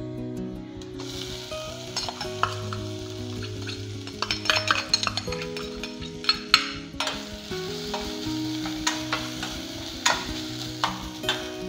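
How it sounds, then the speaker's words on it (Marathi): Grated coconut stirred into a pan of frying garlic for a traditional wet-coconut chutney, with a steady sizzle under repeated scraping and clinking strokes of a spoon against the pan, close and clear, no talking. "आता याच्यामध्ये आपण घालणार आहोत खोबरं।"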